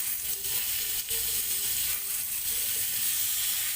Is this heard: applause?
no